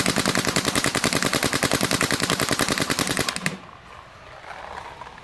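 A Planet Eclipse Geo2 paintball marker fitted with an IV core fires a rapid, even burst of sharp, loud shots for about three seconds, then stops abruptly, leaving quiet background.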